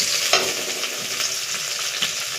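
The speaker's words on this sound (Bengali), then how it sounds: "এই যে পেঁয়াজ কুচিটা দিয়ে দিলাম" Chopped onion sizzles steadily in hot oil in a pan, a dense, even frying hiss with a few brief stirring scrapes, close and alone without voices.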